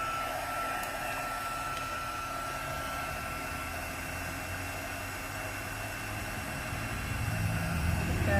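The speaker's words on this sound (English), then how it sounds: "Get your heat tool nice and hot." A hand-held heat gun running steadily, a constant close airy whoosh and hum that holds for several seconds while it heats craft material to melting, with no talking.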